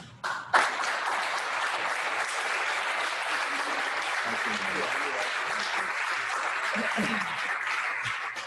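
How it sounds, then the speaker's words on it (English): Sustained audience applause at a Rotary Club meeting, a dense even wash of many hands clapping that starts abruptly and continues for several seconds with faint voices underneath. "Please join me and rise and join me in a round of applause for Jim."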